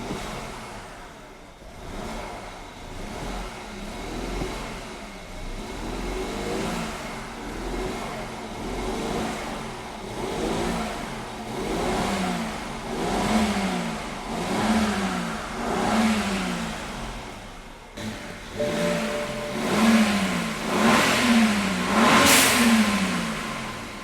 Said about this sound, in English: rev up the engine a few times to clear everything out